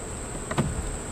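Honeybees in an opened hive during a frame inspection give off a soft, continuous buzzing hum, fairly faint, with a brief muffled knock partway through.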